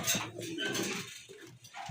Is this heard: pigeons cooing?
yes